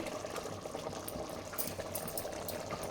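Mushroom curry simmers in a pan, giving a steady, close bubbling and gentle wet popping throughout, fairly quiet and with no talk.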